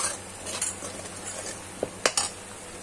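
Potato and pointed gourd being stirred in a pan give a soft, low frying hiss, broken near the end by a few sharp clinks of a spatula against the metal.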